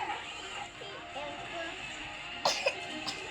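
A person fakes a cough, with two or three sharp, close coughing bursts toward the end over a murmur of background voices.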